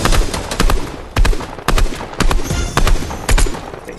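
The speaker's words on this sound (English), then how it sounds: "who's shooting from the left?" Rapid bursts of gunfire in the video game Fortnite crack out in uneven clusters, loud and close, with short gaps between volleys and no talking.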